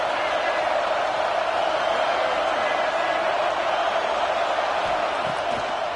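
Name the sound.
stadium crowd cheering at a football game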